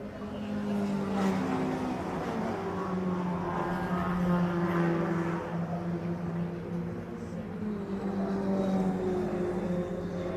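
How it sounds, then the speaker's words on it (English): C-class race cars circuit Donington Park during a race meeting, a continuous loud engine drone with passing cars swelling and fading, no talk. "These cars are wonderful to see, they're wonderful to listen to and hear as well."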